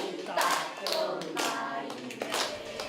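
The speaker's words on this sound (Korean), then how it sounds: "손뼉을 치며 노래로 다 같이 따라 부르니" Elderly people clap their hands along to a sing-along health song at a district health center session, the claps coming in a steady, fairly close rhythm with voices faintly mixed in.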